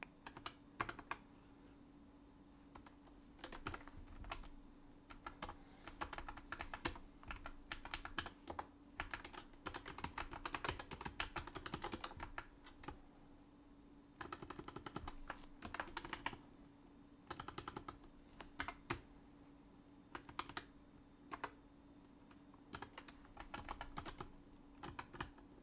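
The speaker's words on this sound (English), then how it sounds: "I have a new keyboard. Can you hear it? It makes way more noise than the other one, than the old one." Fast, clacky typing on a new, noticeably loud computer keyboard while coding C++, bursts of keystrokes with short pauses, close and alone over a faint steady hum.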